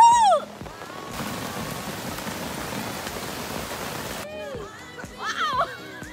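Heavy rain pouring down outdoors in Bali at New Year, a dense steady hiss for several seconds, with brief chirpy sounds before and after it.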